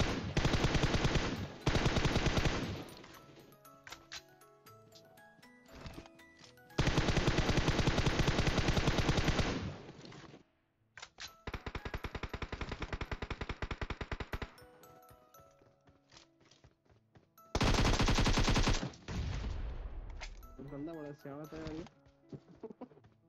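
Gunfire in the mobile battle royale game PUBG Mobile with 9mm weapons, several loud bursts of rapid automatic shots alternating with quieter stretches of game sound, with someone talking in between.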